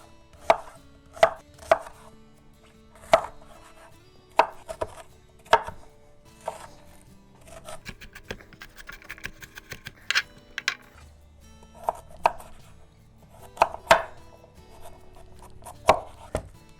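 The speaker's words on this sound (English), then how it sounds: "we're just gonna give this onion a rough chop" A knife roughly chops an onion on a cutting board for pot roast, giving a series of sharp, close knocks in short irregular bursts with brief pauses between them.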